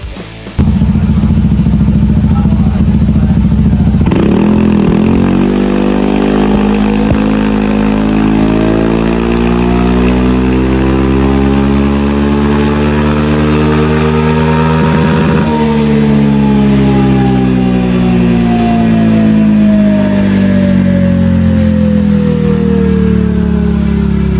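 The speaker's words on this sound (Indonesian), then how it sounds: "lanjut saja kita lakukan proses pengambilan data on dyno test" A Honda Vario 160 scooter engine bored up to 184cc runs on a dyno, starting with a loud idle and then revving up and down in long, sustained sweeps close by.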